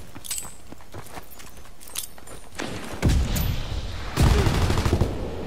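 Shotgun blasts in a WW2 video game on a winter Carentan map, two heavy booming shots a little over a second apart following lighter clicks and rattles, loud and close.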